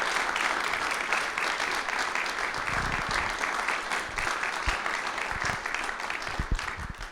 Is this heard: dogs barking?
no